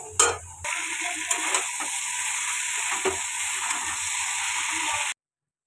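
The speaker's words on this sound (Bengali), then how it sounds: "মশলাটাকে কষে তারপর সবজিগুলো দিয়ে একটু ভালো করে কষে নেব।" Spiced gravy masala fries in a pan with a steady loud sizzle while a spoon stirs and scrapes it. A sharp clatter comes at the start and the sound cuts off abruptly near the end.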